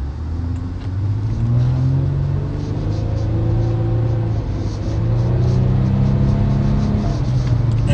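A car engine drones loud and close, a steady low rumble that lifts slightly in pitch as it revs, with no voices over it.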